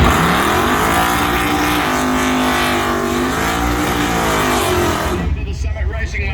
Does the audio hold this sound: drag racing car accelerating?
yes